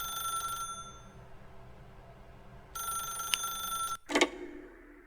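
A telephone rings in the video game The Stanley Parable: Ultra Deluxe, two bursts of bell ringing separated by a pause, then a sharp clunk as it is picked up.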